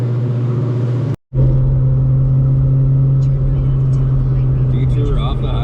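A 1996 Ford Mustang SN95 pulls hard down an expressway between first and second gear, its steady engine drone briefly cutting out for the shift before resuming loud and close.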